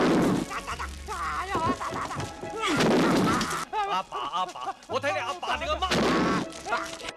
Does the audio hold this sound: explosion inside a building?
yes